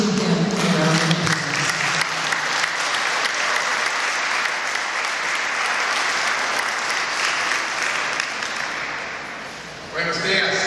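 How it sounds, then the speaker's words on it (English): Audience applause at an event honoring the grandson of Franklin D. Roosevelt, sustained and fairly loud clapping with some voices at the start, tapering off near the end before a brief return. "would you please join me in giving him a round of applause"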